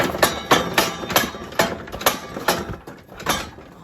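A small engine on a cheaply built homemade lawn mower turns over in steady repeating thumps, roughly three per second, close and moderately loud, with no talking.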